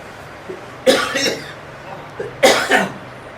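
Two harsh, chesty coughs from a person with a constant cough at a free pain-relief camp, each a short burst, separated by about a second and a half of quiet.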